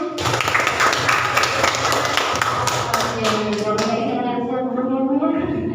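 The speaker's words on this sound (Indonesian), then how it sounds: "Terima kasih, tepuk tangan dulu" An audience of students at a school leadership training session claps together in a dense burst of applause that thins out after a few seconds as a voice starts speaking.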